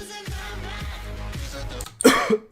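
A single sharp cough bursts out near the end, close and loud, following a stretch of low droning background sound.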